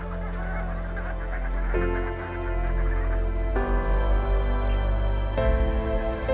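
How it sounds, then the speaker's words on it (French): Ducks call in loud, repeated nasal honks and quacks, overlapping in a dense chorus close by. "Des canards qui chantent bien quoi."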